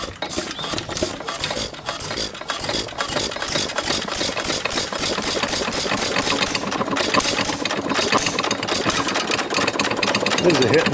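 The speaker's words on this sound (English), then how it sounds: "This is a hit and miss engine." A 1925 Baker Monitor hit and miss engine of 1¼ horsepower runs close by, loud rhythmic firing beats with mechanical clatter and rattle in a steady pulse, while someone speaks over it.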